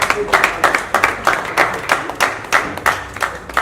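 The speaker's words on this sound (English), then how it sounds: "Please welcome him with a round of applause." An audience claps in a steady round of applause to welcome the President at a live event in Kisumu, with sharp rhythmic bursts filling the space at moderate loudness.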